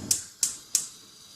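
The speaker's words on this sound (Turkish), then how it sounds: "Ocağımızı açıyoruz." Three sharp, evenly spaced clicks from a gas stove's igniter as the burner is switched on, close and crisp, with no talking.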